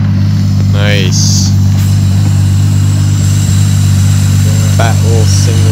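Idling engine of an Infiniti G35 swapped with a Toyota 1JZ inline-six on a single turbo, a loud steady low drone at a car meet, with people chatting over it.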